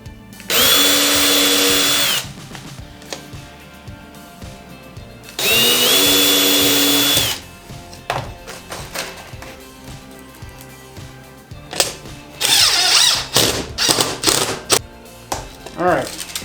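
A power drill drives screws through a plate into a workshop camera gantry: three loud whirring bursts of a couple of seconds each, separated by pauses with light handling noises, the last burst choppier as the screw seats.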